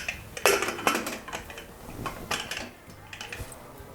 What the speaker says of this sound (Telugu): కుక్కర్ మూత బిగించాలి.